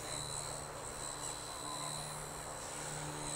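A small Eachine E160 brushless RC helicopter yaws in flight, its rotors and tail motor giving a steady, continuous high whine with a low drone beneath, even in level throughout.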